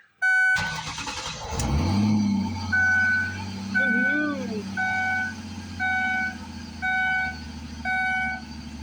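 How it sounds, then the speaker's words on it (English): A 2006 Ford Taurus SE with about 195,000 miles cranks and starts, then idles loudly through a holed muffler, close by, with a steady engine rumble under a regular series of electronic warning chimes. "It's pretty loud right now too, because I think there's a hole in the muffler."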